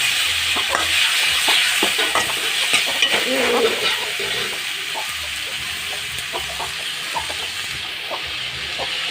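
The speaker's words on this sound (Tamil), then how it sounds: "தக்காளி போட்டு வதக்கிக்கோங்க" Tomatoes sautéing in a pan give a constant close sizzling hiss throughout, with irregular spoon scrapes and light clicks as they are stirred; no one speaks.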